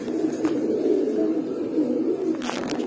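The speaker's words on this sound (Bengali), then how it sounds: "কিং এর কবুতর" A large king pigeon coos with low, rolling calls that run steadily and close throughout, with no talk over them.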